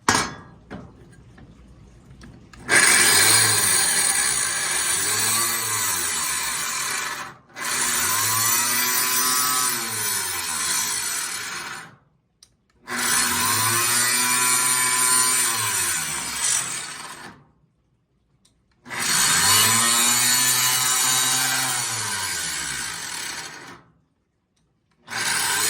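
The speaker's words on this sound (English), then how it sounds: "Sometimes this takes its time, cutting this stuff, grinding it away" Power tool on a motorcycle seat install cutting and grinding through material and throwing sparks, four loud sustained bursts of harsh whining grind separated by short pauses, with pitch sagging as the blade bites.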